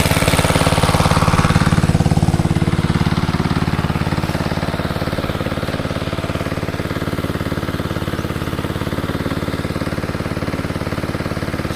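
A water pump engine at a catfish pond drones steadily and loud for the whole stretch, with a constant low rumble and rattling hum and no voices.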